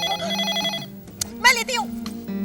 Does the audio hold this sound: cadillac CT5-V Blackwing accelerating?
no